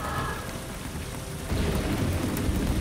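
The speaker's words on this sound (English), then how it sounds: "just look at the rain falling on top of this scene here" Heavy rain pours continuously over a scene in the hidden-object game Phantasmat 3: The Endless Night, with a rumbling thunder-like low roar growing louder midway; no speech.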